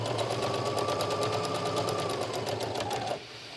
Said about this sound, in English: So my top stitching will be about a quarter inch-ish away from the edge.